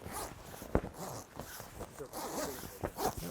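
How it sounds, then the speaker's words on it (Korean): A Korean-made zipper runs along the floor seam of a Korean-produced air tent pitched on rough, dirty ground, giving quick ratcheting zips with rustling fabric, close and fairly loud. "이게 확실히 국산 지퍼라 잘 채워집니다"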